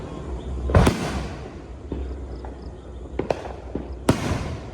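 New Year firecrackers go off outdoors: one loud, sharp bang early on, followed by several smaller scattered pops and cracks.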